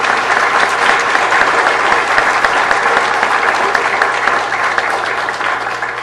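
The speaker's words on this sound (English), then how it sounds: "give them a big round of applause" Big round of applause from the audience at a city council meeting, dense and loud clapping from a full room, holding strong for several seconds before easing slightly toward the end.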